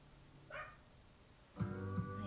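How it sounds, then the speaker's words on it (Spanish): A dog barks twice, a short yip first and then a longer, louder bark with a whining tail, fairly close with no talking. "Ahí está Rafa, ladrando"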